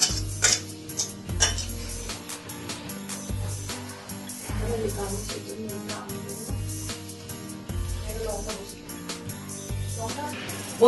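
Mango kasundi chicken being poured from a pan onto a plate: close, irregular metallic knocks and scrapes of a utensil against cookware, with clattering bursts separated by short quieter gaps.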